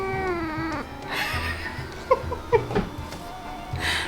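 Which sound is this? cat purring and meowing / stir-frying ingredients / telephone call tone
cat purring and meowing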